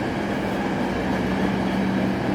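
A passenger train runs with a steady, loud rumble and a constant low hum, heard from inside the carriage with no voices.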